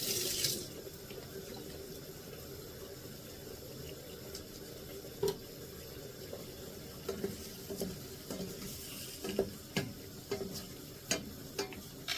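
A spoon is rinsed under a running kitchen tap while cooking, a quiet, steady trickle of water broken by light clinks and taps of metal, with no voices.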